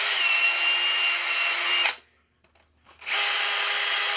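A power drill fitted with a 1/4 inch bit whines loudly and steadily while reaming a hole through a cork ring, stopping for about a second before spinning up again at the same high pitch.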